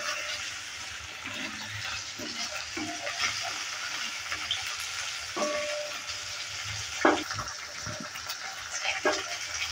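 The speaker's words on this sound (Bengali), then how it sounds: "বাদামটা দেওয়ার পরও হালকা নেড়ে নিচ্ছি।" Cabbage, peanuts and green chillies sizzle steadily in a frying pan for a Bengali cabbage ghonto, with a spoon stirring through them and occasional sharp scraping clicks over the constant hiss.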